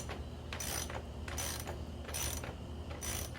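A hand ratchet loosens the chain adjuster on a Sur-Ron Ultra Bee electric dirt bike, giving four quick rhythmic bursts of clicking pawl sounds at close range with short pauses between strokes.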